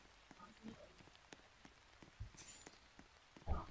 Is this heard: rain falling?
yes